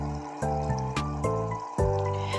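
Water from a small pump in a mini goldfish aquarium splashes and trickles continuously, with repeated sharper bursts of spattering every half second or so, close and fairly loud.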